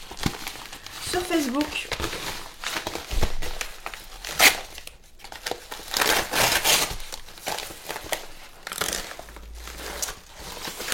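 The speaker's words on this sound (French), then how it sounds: "Ensuite, je vais ouvrir ce cadeau." Gift package being unwrapped by hand, a FIFA 23 PS5 game won in a prize draw, with repeated crinkling and tearing of wrapping close by, broken into bursts, while someone talks over much of it.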